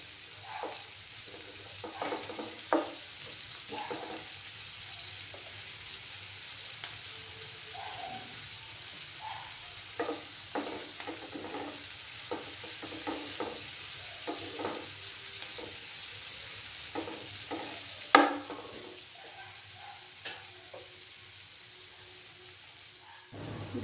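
Food frying in a pan until golden, a quiet ongoing sizzle with scattered crackles and occasional louder pops and stirring scrapes, no voices.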